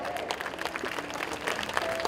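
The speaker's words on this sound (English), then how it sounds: "Can we have a big round of applause for them?" Applause from an audience at a school event, a steady patter of clapping filling the whole moment at moderate volume without speech over it.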